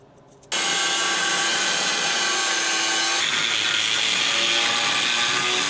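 A power tool cuts through a small steel plate with a loud, continuous high-pitched grinding whine that starts abruptly and holds steady, shifting slightly in tone partway through.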